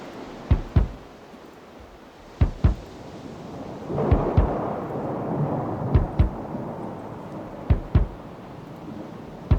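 A thunderstorm on an album track: a steady rain hiss runs throughout, broken by sharp, loud thunder cracks at irregular intervals, with a swelling rumble in the middle.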